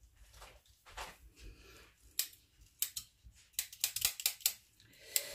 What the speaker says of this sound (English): These are kitchen scissors.